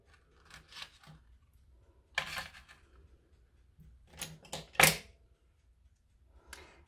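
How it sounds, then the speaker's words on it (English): Wire cut for polymer clay jewelry: a few sharp, close snips and clicks scattered among quiet handling noises, with one louder snap near the end. "here's my wire. I'm just going to cut a piece of this off."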